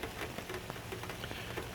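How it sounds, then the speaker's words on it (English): Hard, steady rain falls in a dense, continuous wash of drops striking surfaces nearby, with no voices over it. "It's really starting to rain hard."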